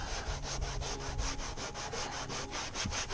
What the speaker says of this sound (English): let's give her a scrub